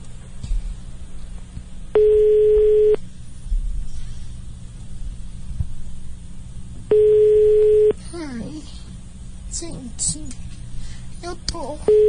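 Telephone line tone heard while redialing a prank call: two steady one-second beeps several seconds apart, with people talking faintly in between.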